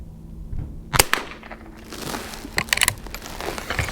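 A Marlin 39A rifle fires a few sharp, loud cracks, each a short, separate report with quiet pauses between them.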